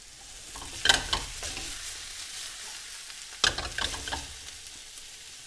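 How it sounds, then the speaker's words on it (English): Squash and other vegetables saute in a pan with a low, steady sizzle, and two brief bursts of stirring and scraping stand out about two and a half seconds apart. "It's going to take a while for these vegetables to saute down."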